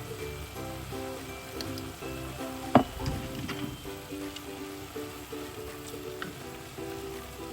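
Seasoned ground meat frying in a pan for a tomato-sauce dish while being stirred, with a steady close sizzle and a sharp clink of the utensil partway through, under faint background music.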